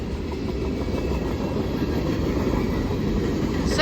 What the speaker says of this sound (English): We haven't had a nighttime train in a while.